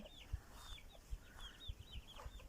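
Chickens cluck at a garden dacha, several nearby birds giving repeated soft clucks and short calls over faint thumps, fairly quiet and with no talk.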